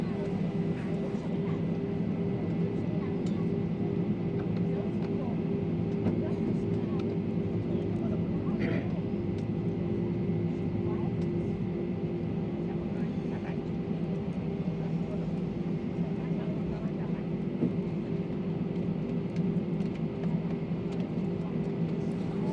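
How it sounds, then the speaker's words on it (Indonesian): A Bangkok Airways airliner taxiing in a queue for takeoff at Suvarnabhumi International Airport, a steady, even engine drone with a faint hum lasting throughout, with people talking over it. "Ini untuk pesawatnya sedang antri untuk menuju lepas landas dari Bandara Internasional Suwarna Bumi."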